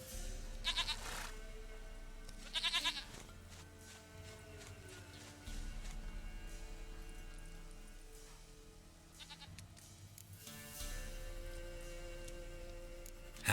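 A goat bleats in The Witcher 3 game, with a few short, distinct bleats spaced apart over a soft musical background and low hum, and no talking.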